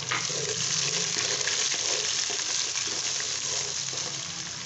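Onions sizzling in hot mustard oil for an aloo gajar matar sabzi, a steady, close, hissing fry that stays even throughout.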